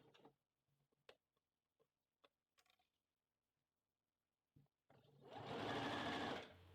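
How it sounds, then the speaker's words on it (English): Domestic sewing machine stitching the side seam of a small doll skirt, a few faint clicks and taps before a steady fast mechanical whir runs for about two seconds, close by. "And there we go, back to the sewing machine."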